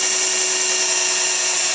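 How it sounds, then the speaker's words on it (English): A compact power drill runs continuously close by, bored into material with a loud steady high-pitched whine, no voices. "It's a nice drill."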